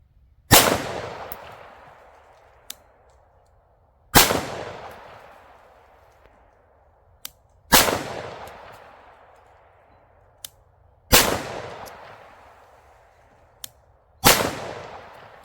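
Five loud, close 9mm pistol shots fired with Magtech zinc-plated steel-case ammunition, spaced about three seconds apart, each with a sharp crack and a long decaying echo, with faint clicks in between.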